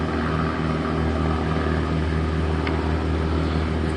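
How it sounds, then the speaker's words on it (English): A drone flying over the ocean along the Florida Space Coast gives a loud, steady motor and propeller drone that holds an even pitch with no pauses. No one talks. "I kind of push the drone around here a little bit."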